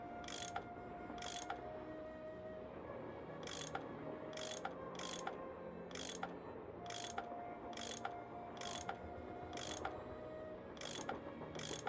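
A tool turning bolts on a train mechanism in the Nancy Drew video game, a series of about a dozen sharp mechanical ratchet clicks in a slow irregular rhythm over a quiet ambient game background.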